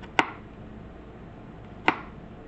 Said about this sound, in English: Chop it in pieces.